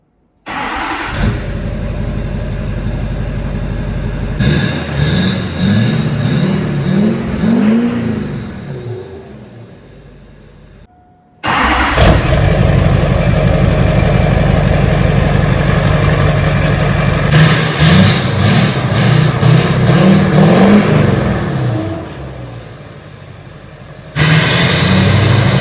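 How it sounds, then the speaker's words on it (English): An LBZ diesel pickup truck cold-starts twice, first on the old exhaust and then straight-piped: each start cranks and catches into a loud, close, rumbling idle that rises and settles, with a brief pause between the two starts. "we're about to go ahead and do a before and after cold start with the new exhaust system straight piped on the truck"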